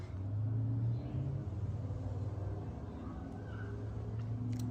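A freshly rebuilt VW CC engine idling steadily with its auxiliary coolant pump running, a low, even hum and rumble heard close, with faint outdoor background noise and no talking.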